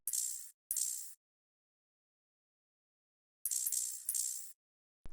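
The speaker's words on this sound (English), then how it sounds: "Just a super like gritty open hat that complements really well with the 808." A gritty open hi-hat from a hard-hitting FL Studio beat rings in short bright bursts, two hits, a pause, then three more, crisp and noisy with a faint low thump beneath, no voices.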